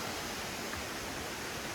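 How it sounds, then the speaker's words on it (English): Steady broadband rush of falling water at the Lovers Valley waterfall in Maolin, Kaohsiung, a continuous even roar with no voices over it. "So this is step 2 of the Lovers Valley waterfall."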